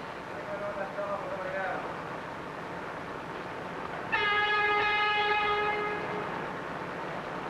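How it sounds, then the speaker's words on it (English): A 1949 New York subway local train pulls into the Lexington and 42nd station alongside an express, with steady rumble, a squealing brake whine, then a long multi-tone horn sounding under a narrator's voice. "Bob Miller in the cab of the local pulling in along with the express."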